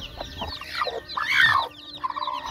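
Javanese, Bangkok and Godzilla breed chickens cluck close by in a run of short, rising and falling calls, peaking in a louder burst midway before settling into softer clucks.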